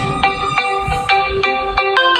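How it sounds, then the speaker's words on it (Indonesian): A phone ringtone sounds for an incoming call, a loud, bright repeating electronic melody of short tonal pulses, played alone with no talk over it. "Bentar ada telepon nih, bentar."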